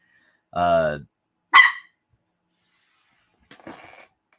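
A single short bark sounds, followed by a brief sharp yelp and then a faint, rougher vocal sound after a pause, with near silence between.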